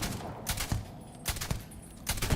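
Gunfire in Starfield, several sharp shots in quick bursts roughly every half second, loud and close with no talk over them.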